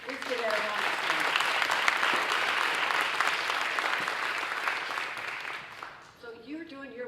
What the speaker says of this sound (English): And let's give that a round of applause.